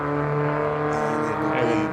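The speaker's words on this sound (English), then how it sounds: "Peter Tillett crossing the line now in the silver twin spark" A silver Alfa Romeo twin spark race car roars across the finish line at The Bend circuit, a loud sustained engine note with harmonic drone, close and steady throughout.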